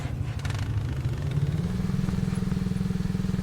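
ATV engine in the survival video game Subsistence, droning steadily as the vehicle drives and shifts up through second and third gear, with a low pulsing rumble that grows slightly stronger partway through and runs alone without talk.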